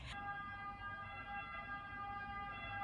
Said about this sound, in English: We're gonna let that siren go.